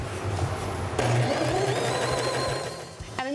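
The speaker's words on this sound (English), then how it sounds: "I'm just gonna run a straight 1/4 inch seam straight down the edge." A sewing machine runs a straight quarter-inch seam down a patchwork piece's edge, its fast steady stitching whir continuing for about three seconds close to the mic, then stopping with a brief clatter at the end.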